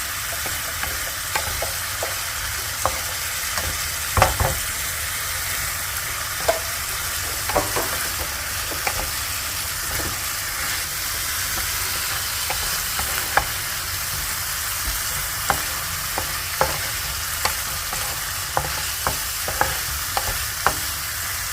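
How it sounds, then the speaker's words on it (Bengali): Spices for a Bengali cabbage curry fry in a pan, giving a constant soft sizzle. A spoon stirs and scrapes through them, adding irregular clicks and knocks at close range. "ততক্ষণ নাড়ানাড়ি করতে হবে, কষতে হবে"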